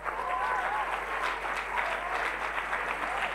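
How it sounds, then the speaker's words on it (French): An audience at a competition event applauds the evening's winner, a steady, fairly close round of clapping from a crowd, with faint voices mixed in. "Sous des applaudissements mérités."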